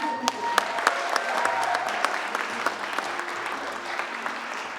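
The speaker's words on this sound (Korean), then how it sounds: "다시 박수 부탁드립니다" Applause from a crowd at a Korean redevelopment launch ceremony, steady and moderately loud with distinct sharp claps standing out, while a low hum sits underneath.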